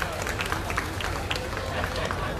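An audience at a Labour Day event claps for a cabinet minister, a brisk, continuous patter of many hands with crowd murmur mixed in.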